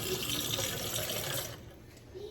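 Running tap water rinses homemade butter at a kitchen sink, a steady loud splashing stream for about a second and a half that then drops to a fainter trickle.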